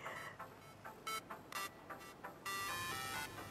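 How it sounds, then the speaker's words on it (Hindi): A phone rings in a quiet indoor scene, its electronic ringtone sounding in short repeated bursts, then holding steadily toward the end, with no talk over it. "दानियल का फोन।"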